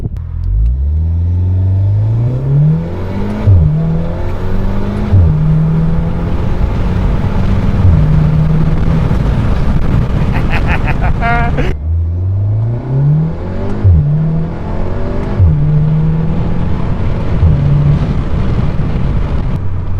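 A Volkswagen MK7.5 R with a CTS intake pulls hard in first gear. The engine revs climb in repeated sweeping pulls, with brief drops at the shifts, loud and close, and no talk.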